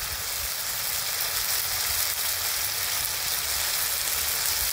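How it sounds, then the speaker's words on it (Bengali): Spice paste of onion, green chilli, turmeric, chilli and coriander powders, ground ginger, cumin and garlic sizzling steadily in a hot pan while being fried for a Bengali brinjal chorchori, a continuous close, dense crackle with no talk. "মশলাটা ভালোভাবে কষিয়ে নিই।"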